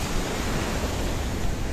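Waves roll in at Faros Beach near the lighthouse in Paphos, Cyprus: a dense, continuous rush of surf noise with no breaks, close and fairly loud, mixed with some wind.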